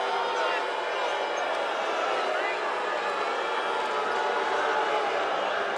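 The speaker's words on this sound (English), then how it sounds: "Crowd is letting the officials have it here" Arena crowd at a Canada West men's university volleyball match between UBC and Alberta, a dense steady roar of jeering and shouting from the stands directed at the officials, continuous and loud throughout without a break.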